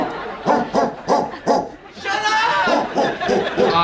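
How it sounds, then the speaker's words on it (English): Several dogs bark excitedly in a close, loud run of rhythmic yips and barks, joined by a whimper and some laughter near the end. "my dogs are going crazy here"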